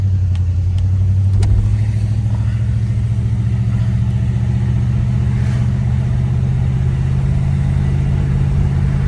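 A 1988 Chevrolet Caprice on a test drive gives a steady, close engine drone and road rumble that holds at a fairly even pitch throughout, with no talking.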